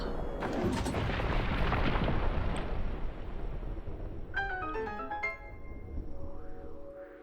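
A loud, booming explosion in the open-world game The Legend of Zelda: Breath of the Wild, rumbling and decaying over several seconds before fading into softer chiming game tones.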